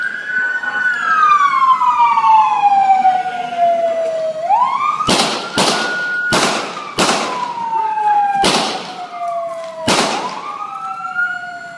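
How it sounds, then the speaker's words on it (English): Six sharp, loud gunshots crack in an irregular sequence over a wailing siren that rises and falls throughout, during a fatal police shooting on a Toronto 505 streetcar. "Here's the audio of those few seconds, including the 6 gunshots."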